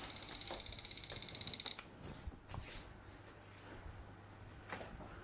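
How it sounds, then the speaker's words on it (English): A kitchen timer alarm rings in a home kitchen while scones are baking, sending out a rapid series of high electronic beeps for almost two seconds before it stops, with light clatter afterward. "oh, there's my timer"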